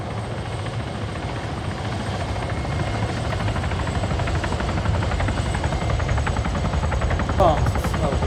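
A video game helicopter flies steadily nearby, its rotor throbbing as a continuous low chop under voices speaking over it, with a brief sharp knock near the end.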